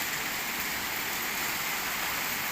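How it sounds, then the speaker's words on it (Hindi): Heavy early-morning rain with light hail falls in Bahria Town, Rawalpindi. The downpour gives a dense, even hiss that runs on without a break. "आप देख रहे हैं बारिश बहुत ज़ोरों की हो रही है।"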